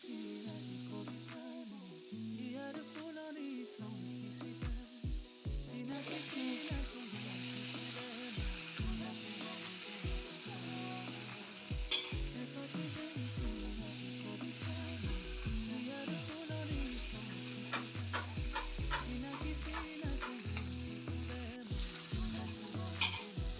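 Chicken meat frying in a pan with steady sizzling, and repeated scraping stirs in a regular rhythm with occasional clinks of utensil on metal, close and continuous, no talking.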